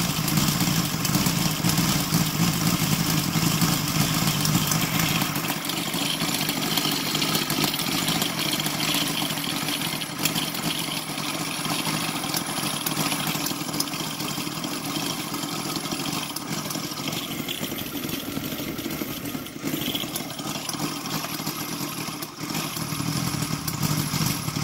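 A Sidel 7-cylinder 770 engine, converted to CDI ignition and gasoline with a 20:1 fuel mix, runs continuously nearby with a rough, buzzing, rapid firing clatter at a steady idle-like pace, loud and alone throughout.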